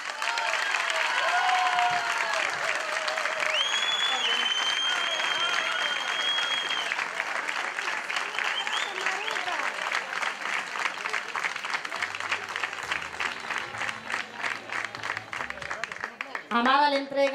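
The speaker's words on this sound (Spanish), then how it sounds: "¡Fuerte aplauso!" Loud, sustained applause from a crowd at a village tribute in a Spanish hamlet, dense clapping filling the whole stretch with some cheering and voices mixed in, fading slightly near the end.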